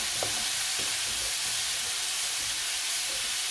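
Meat for a Philly cheesesteak sizzling steadily in a hot pan, a broad even hiss with a few faint scrapes of stirring underneath, no voices.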